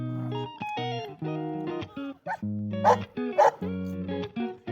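A dog barks and yelps at a squirrel outdoors, a run of short, loud, pitched barks and whiny cries in quick succession, close to the listener.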